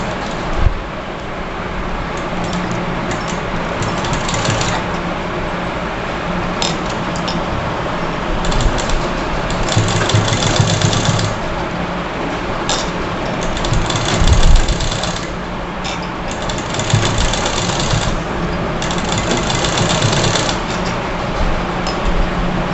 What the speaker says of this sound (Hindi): इस पे भी एक सिलाई लगा लेंगे।